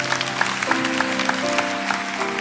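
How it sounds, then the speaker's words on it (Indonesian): Applause from a church congregation, dense clapping with sustained tones of music or organ beneath, steady and moderately loud throughout. "Kasih tepuk tangan untuk Tuhan"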